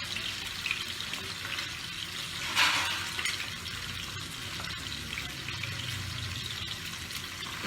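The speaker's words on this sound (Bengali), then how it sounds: "দেখুন 2 মিনিটও লাগবে না ভাজতে।" Pabda fish frying in hot oil gives a steady, soft sizzle and crackle, with a brief louder spatter partway through and no voices.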